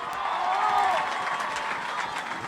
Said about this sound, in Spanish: Fuerte el aplauso para Enrique